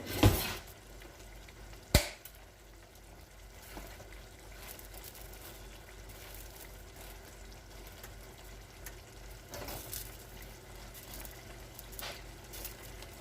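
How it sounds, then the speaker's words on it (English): An 8-ounce can of tomato sauce is poured into a sizzling pot for Puerto Rican-style chile, giving a couple of sharp clanks and then a low steady sizzle and bubbling. "8-ounce can of tomato sauce going in."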